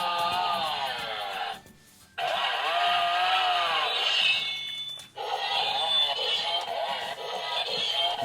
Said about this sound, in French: On dirait vraiment le bruit d'une tronçonneuse.